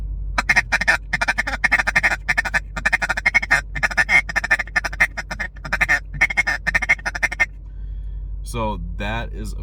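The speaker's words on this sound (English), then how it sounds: "the feeder call is going to sound a little something like this" Duck call blown in a feeder call, a rapid run of clipped, chattering quacks that is loud and close and goes on for about seven seconds, then a few drawn-out, wavering calls near the end.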